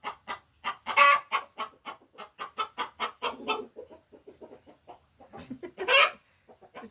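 Chicken clucking close by in a rapid series of short, choppy clucks, with a few louder squawks, heard alone without talk.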